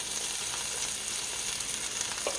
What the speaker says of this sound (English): add a little bit of olive oil to the hot pan. And then a little bit of diced or minced garlic